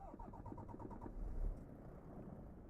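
A truck engine in Euro Truck Simulator 2 turns over and settles into a low, quiet rumble, a soft mid-range surge building briefly before idling steadily.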